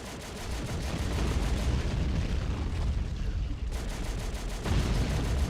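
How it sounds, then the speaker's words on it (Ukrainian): Artillery fire in the war video game Men of War, a dense, loud barrage of blasts and booming impacts that continues almost without pause, with a brief lull before it resumes, and no talk. "Так, арта, арта, арта!"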